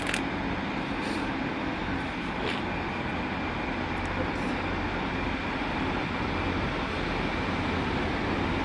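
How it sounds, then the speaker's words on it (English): Two Class 156 diesel units operated by First TransPennine Express pull away on the Styal line at Manchester Airport, a loud, steady engine rumble and rolling noise that continues without a break. "the two 156s for First Transpennine Express is now leaving"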